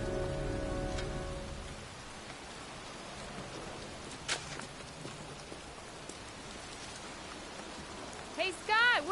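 Steady rain pours over a cemetery in the Heavy Rain video game, a constant wash of falling water with a few brief knocks and a short burst of higher chirping or squeaking toward the end.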